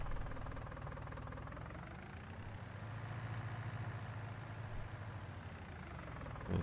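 A John Deere 2020 tractor engine runs steadily with a low, rumbling, knocking drone, heard up close and continuous with no talk.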